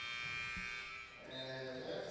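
A game-end buzzer at a women's Centrobasket Championship basketball game, Jamaica against Mexico, sounding as a steady electronic tone partway through over faint arena crowd noise.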